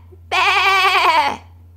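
A single sheep bleat, loud and close, a wavering tonal cry lasting about a second over a low steady hum, with no other sounds around it.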